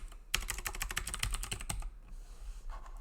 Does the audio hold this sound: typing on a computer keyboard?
yes